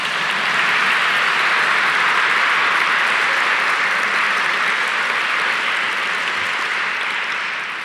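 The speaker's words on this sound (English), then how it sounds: "we can give Justice Thomas a nice round of applause" A lecture-hall audience at a judicial lecture gives sustained applause, a dense and steady wash of clapping that fills the room evenly for the whole stretch before easing slightly at the end.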